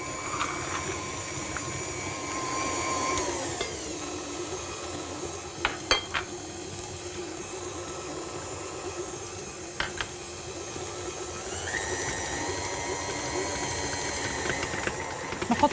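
An electric mixer whips cookie dough ingredients in a bowl, making a steady whirring drone that shifts in pitch as the speed changes, with occasional sharp clinks against the bowl.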